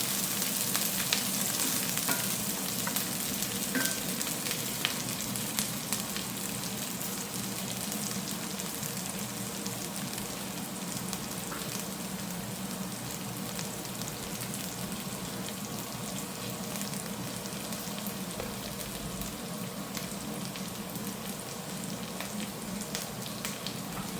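Green chillies fry steadily in hot oil in a pan for a noodle dish, a continuous close sizzle that never lets up and has no talking over it.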